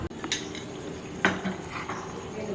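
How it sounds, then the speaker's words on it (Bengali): A lid set onto a cooking pot while steaming pomfret, a sharp metallic clink at the start and another clatter midway over a low simmering hiss, close and without talk. "এবার আমি ঢাকা দিয়ে দেব।"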